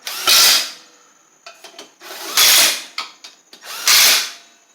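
Power drill screwing a part into an MTD Murray riding mower, three loud whirring bursts of about half a second each, spaced roughly two seconds apart, with light clatter between them.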